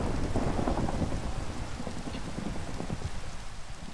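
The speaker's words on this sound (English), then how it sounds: "Bloody rain, hang on" Rain and thunder from the Minecraft game, a steady loud downpour with rumbling thunder that fills the whole stretch and softens slightly toward the end, no talking.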